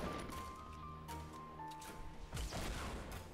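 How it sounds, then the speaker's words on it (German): Fortnite gameplay with rocket launcher shots and explosions: several loud crashing bursts and booms over a busy game soundscape with tonal game effects, the heaviest impacts near the end. "Die schießen auch mit dem Raketenwerfer."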